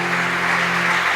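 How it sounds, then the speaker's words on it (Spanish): Worshippers clapping in church, a brief steady patter of applause over a low sustained hum, alone and moderately loud. "Dale un fuerte aplauso."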